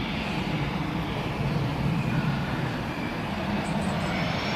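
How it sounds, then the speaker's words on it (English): An Embraer jet departs at Manchester Airport, its engines a broad, steady distant roar with a faint high whine rising near the end, no speech over it. "Embraer that's looking to depart"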